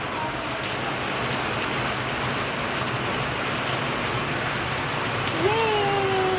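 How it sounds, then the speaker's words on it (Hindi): Steady first monsoon rain falls in a continuous hiss with scattered drops on surfaces, and a faint tonal whistle rises near the end. "अच्छा हुआ बारिश आ गई, पता चल गया बारिश आने का"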